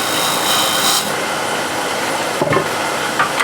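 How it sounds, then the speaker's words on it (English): A hand tool rasps along the edge of a piece of wood to cut a small chamfer at an intersection, giving close, steady scraping strokes with a brief sharper scrape near the end. "here at the intersection, I'll just make a little chamfer again"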